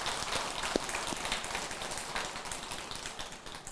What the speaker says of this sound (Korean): 축하하면서 박수 한번 보내드립시다